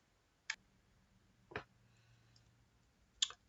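Mouse clicks on a computer while selected line items are deleted in a work dashboard: three sharp, isolated clicks spaced over a few seconds, close and clean against a quiet room with a faint low hum.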